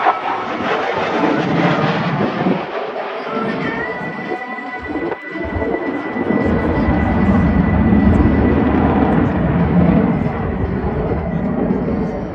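An F-16 Fighting Falcon fighter jet at the 2024 Quinte West airshow gives a loud, continuous roar that rises and swells as it turns into the landing pattern.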